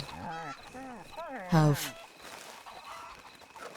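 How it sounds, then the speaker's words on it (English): Chickens squawk in alarm in Red Dead Redemption 2, a loud burst of panicked clucking just after a voice, then fading under quieter background and more talk. "Chickens are panicking for no reason."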